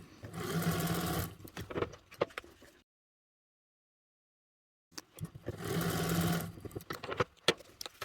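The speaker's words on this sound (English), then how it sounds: "I'm going to sew a line right up and down the middle first" A sewing machine top stitches lines on fabric in two loud, fast whirring bursts of a couple of seconds each, separated by a silent gap, with small clicks and handling noises after each run.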